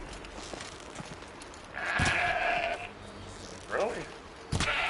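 A goat in the Horizon Zero Dawn: The Frozen Wilds video game gives a couple of short, wavering bleats over the game's ambient sound, with a sharp impact or thud near the end.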